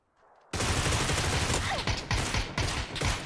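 Rapid bursts of close, loud gunfire in PUBG, sharp overlapping shots in quick succession that sustain after a sudden start.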